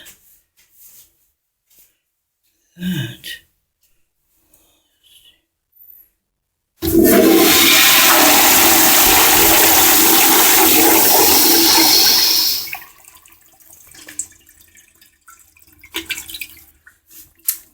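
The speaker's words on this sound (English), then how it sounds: "what kind of a flush is that?" After a few faint knocks and a click, a toilet in a medical school bathroom, likely an American Standard Afwall, bursts into a loud, steady rushing flush for about six seconds, then fades to quieter trickling refill.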